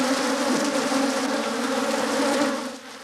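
A dense swarm of killer bees drones steadily and loudly, a thick continuous buzz with wavering tones that holds close and constant before easing slightly at the end.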